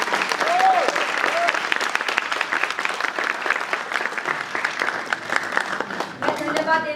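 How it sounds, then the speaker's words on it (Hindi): An audience at a children's theatre festival performance claps for the young performers, giving sustained dense applause that stays loud throughout. "सबसे पहले इन बच्चों के लिए तालियां बहुत"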